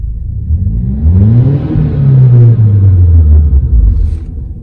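An Audi engine, one of the A4/S4, A5/S5, SQ5, A6/S6, A7/S7 or A3/S3 models, starts and warms up, with a low steady rumble rising into a brief rev and then settling into a sustained idle, close and loud, with no talking.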